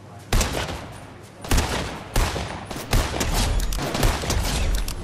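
A semi-automatic sniper rifle in the video game Fortnite fires about six sharp, loud shots at uneven intervals, each cracking report trailing into echoing noise, with no talking.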